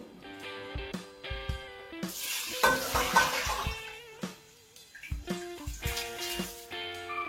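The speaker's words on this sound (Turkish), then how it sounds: "Bütün şekerimizi döktük." Sugar is poured into a pot for kadayif syrup, a granular rushing hiss that swells for about a second in the middle, under loud melodic background music.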